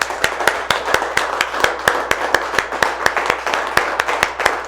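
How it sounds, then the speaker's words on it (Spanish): A church congregation claps in a steady, even rhythm at a service, the sharp hand claps landing on a regular beat, loud and close, with no speech over them. "Vamos a darle un aplauso a nuestro buen Dios."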